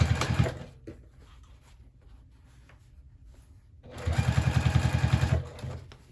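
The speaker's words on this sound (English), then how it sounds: "we're just going to go ahead and top stitch" A sewing machine top stitches a handbag in two short runs, a brief burst at the start and a louder rapid chatter of stitches after a quiet stretch of small handling noises, close by with no speech.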